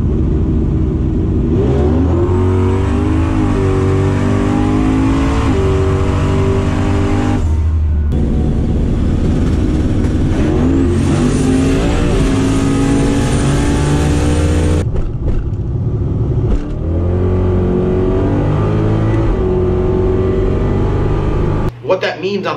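A drag race car with a TH400 transmission roars and revs hard on launch, pitch climbing then dropping between quick gear changes, with a very quick 1-2 shift, and someone talking over the car noise.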